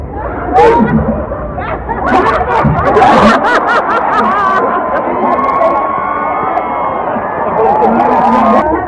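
An outdoor audience at a Philippine Christmas festival in Tumbalong Park, Sydney, cheers, shouts and laughs loudly in a sustained roar with a steady hum of crowd noise.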